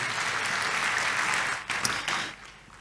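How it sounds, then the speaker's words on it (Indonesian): A church congregation at a Sunday service applauds in praise, a broad steady wash of clapping that thins out and fades over the last second, with a few louder individual claps near the end. "tepuk tangan buat Tuhan kita Yesus."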